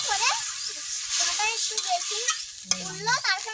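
Eggplant and fish curry simmering and sizzling in a pan as water is poured in and stirred, a steady frying hiss with scraping stirs and a brief splash near the end, close and moderately loud.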